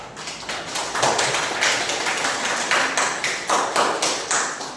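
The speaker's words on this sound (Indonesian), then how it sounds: "berikan tepuk tangan yang meriah" An audience in a hall applauds at a university mathematics education project presentation, a dense, steady wash of many hands clapping together, loud and sustained throughout.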